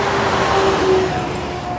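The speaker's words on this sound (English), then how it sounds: "I'm really close to a main road here, so sorry for the noise" Steady traffic from a nearby main road, a constant broadband roar of passing cars and heavier vehicles with faint tonal whines, heard up close and without pause.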